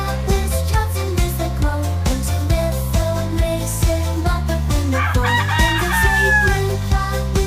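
Loud, close crowing from a fighting rooster, with clucks and a long drawn-out cock-a-doodle-doo near the end, set over a continuous rhythmic background pulse.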